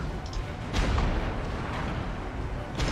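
Artillery fire in the real-time strategy game Supreme Commander, a dense, continuous rumble of booming shell impacts with a few sharper bursts layered over it, loud and sustained throughout.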